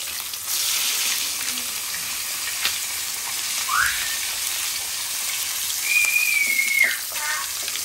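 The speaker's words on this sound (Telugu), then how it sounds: "రెండు వైపులా ఆయిల్ అడ్జస్ట్ చేసుకుంటూ ఫ్రై చేస్తున్నాను." Fish sizzles steadily in oil in a non-stick pan, a continuous close frying hiss with a few faint clinks, and no talking.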